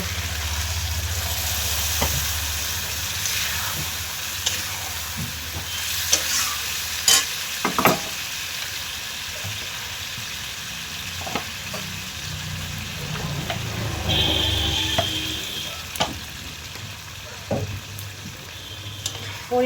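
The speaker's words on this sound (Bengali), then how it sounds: "তো দেখো মাংসটা এখানে কষাতে কষাতে অনেকটা নরম হয়ে গেছে" Meat sautéed and stirred in a pan, with a steady close sizzle and recurring scrapes and clinks of the utensil against the pan throughout, no talking.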